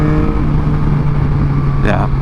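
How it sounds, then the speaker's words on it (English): A 2021 Yamaha MT-09 motorcycle with an Akrapovic exhaust gives a steady, loud engine drone while riding, with a brief rising rev near the end, and a voice talks over it. "It picks up nicely, the exhaust sounds nice, and you guys know Akrapovic always sounds good"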